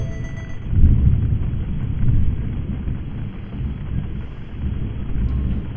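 Deep rumbling thunder from a passing severe evening storm rolls in low, loud swells, building and fading repeatedly over a steady background roar.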